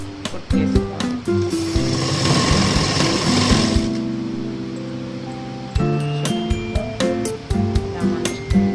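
A sewing machine stitches a blouse in short rapid bursts, clattering close up, with a longer steady run in the middle and quiet clicks between the stops.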